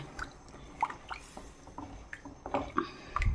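Water mixed with ground paste is poured into sautéed adamant creeper (pirandai) in a pan, giving soft scattered drips, squishes and small liquid splashes close up, with no talking.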